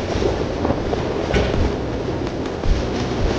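Padatik Express train running from New Jalpaiguri to Sealdah, heard from inside as a steady, loud rumble of wheels and carriage with a few brief clanks, no voices.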